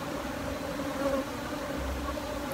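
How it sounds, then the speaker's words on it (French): Honeybees from a nest built in stacked tires buzz steadily close by, a continuous droning hum with slight swells as bees pass near. "les abeilles qui sont dans les pneus"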